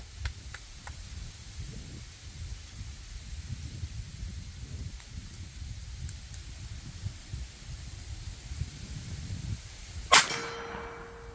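A Lifecard .22lr fired at a 16-inch steel plate 25 yards away, with one sharp crack followed at once by a ringing metallic clang that lingers, after a stretch of quiet outdoor wind rustle.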